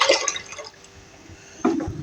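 Water poured into a pot of lentils while cooking Punjabi dal, a short splashing pour at the start, a pause, then a second louder burst of pouring and bubbling close by.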